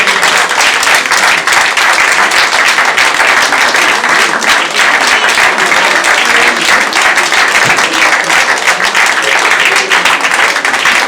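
Loud, sustained audience applause fills a theatre festival awards ceremony, dense clapping from a large crowd continuing steadily without pause.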